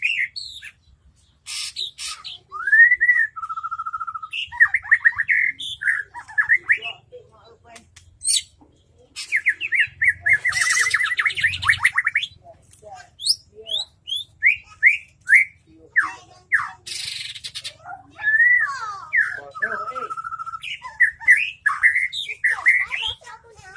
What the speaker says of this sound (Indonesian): Nah itu murai kita bos.